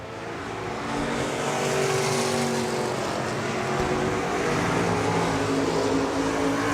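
Stock cars and modifieds racing around Park Jefferson Speedway, a dirt oval, their engines blending into a loud sustained roar that swells as the pack comes nearer.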